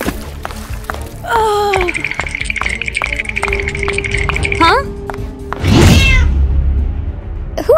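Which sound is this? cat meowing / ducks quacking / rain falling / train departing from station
cat meowing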